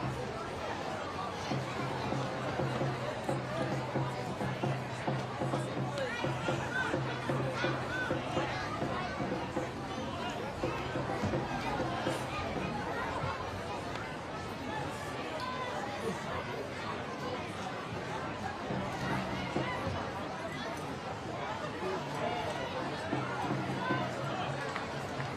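A large home crowd at a Perth Glory A-League football match against Melbourne City, a broad sustained roar of chatter and cheering filling the stadium throughout, with commentary voices running over it.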